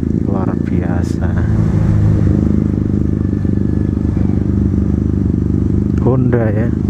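A Honda CB 125 Twin two-cylinder motorcycle engine runs close by on a road in Bandung, a steady throbbing drone with slight revving, while people talk over it.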